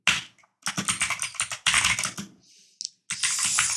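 Code typed on a computer keyboard while writing a Laravel function, coming in fast dense bursts of clattering keystrokes split by brief pauses, close and fairly loud, without any speech.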